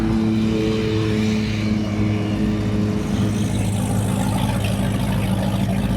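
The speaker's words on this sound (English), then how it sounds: "I think that boat means business by the sounds of it. Felt like a speedboat." Speedboat engine passing along a shallow canal, a steady, loud low drone with a throaty rumble that stays close for the whole stretch.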